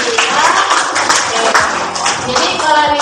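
Classroom applause: a steady patter of many hands clapping together, loud and close, with a few voices mixed in underneath.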